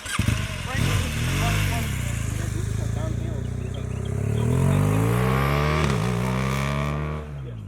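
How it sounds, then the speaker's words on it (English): A BMW motorcycle at a rider academy accelerates hard and shifts up through the gears, the engine pitch climbing, dropping at each change and rising again, loud and close, with people talking over it. "we're going to let him shift up into third, and let's see what he's got"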